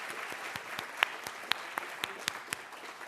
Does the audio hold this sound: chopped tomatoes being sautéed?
no